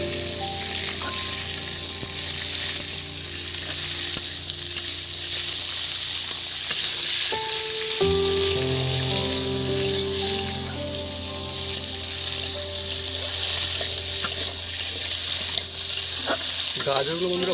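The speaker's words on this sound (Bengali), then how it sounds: "গাজরগুলো বন্ধুরা ভাজা হচ্ছে, কালার যেন আরো খুলছে আরো।" Carrots fry in a pan, a loud continuous sizzle running throughout with repeated stirring scrapes, near and alone without talk, and a steady tonal hum underneath.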